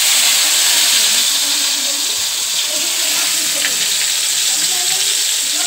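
Green chillies and tomato sizzle in hot oil for a Bengali pomfret mustard curry, a steady bright frying hiss running evenly and close throughout.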